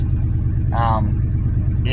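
A truck engine idles with a steady, low exhaust rumble before an exhaust repair, joined briefly by a higher tonal whine partway through.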